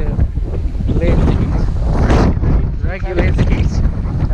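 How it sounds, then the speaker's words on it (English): Strong, gusty wind buffets the microphone on a hillside during a walk up a fell, producing continuous broadband roaring that surges and eases, with no clear talk. "it's a blustery day"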